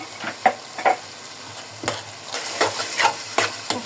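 Mixed vegetables fry in a pan as garlic paste is added, a soft continuous sizzle broken by repeated scraping strokes of a spatula stirring every half second or so.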